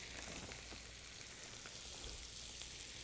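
Ribeye steak frying in butter in a pan, a faint, steady sizzle with soft crackles throughout, close and unbroken, no voices.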